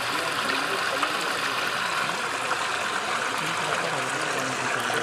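Water from a 5 HP motor pump gushing forcefully into a water-harvesting pit, a steady dense rushing roar that holds unbroken and loud throughout, with no pauses or voices.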